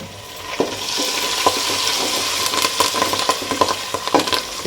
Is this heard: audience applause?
no